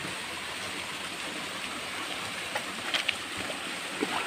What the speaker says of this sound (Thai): แล้วน้ำตกห้วยปลาปูครับผม น้ำตกห้วยปลาปู